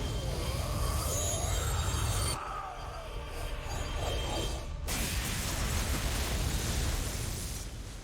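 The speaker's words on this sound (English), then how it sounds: "that's quite the explosion" An explosion in StarCraft II rumbles densely for about two seconds, drops abruptly to a dimmer layer of mechanical clatter, then surges back into a loud, sustained roar of game effects.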